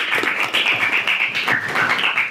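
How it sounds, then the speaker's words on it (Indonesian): Applause from a classroom of students, a dense continuous patter of claps held at steady loudness for a couple of seconds, close and lively with no talking over it. "Kita beri tepuk tangan dulu."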